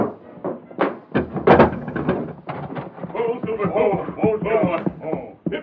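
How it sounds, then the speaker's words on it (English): Old-time Lone Ranger radio western drama: a heavy frontier ranch house door is unbarred and pulled open, a few solid wooden clunks and scrapes early on, mixed under continuous talking voices. "Hurry, unbar the door."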